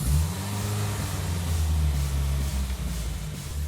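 A tuned car engine revs hard and steadily during a dyno power run, a loud, sustained mid-pitched roar that holds for several seconds with no voices over it.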